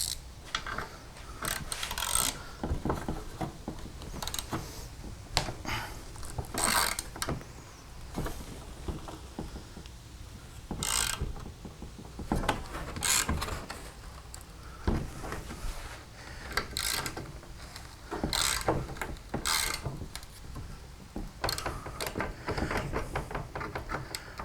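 Repeated ratcheting clicks and metallic scrapes come from a wrench working old rusted bolts loose and back on a 1987 Chevy R10 fuel system, in irregular bursts with pauses, fairly close and moderately loud.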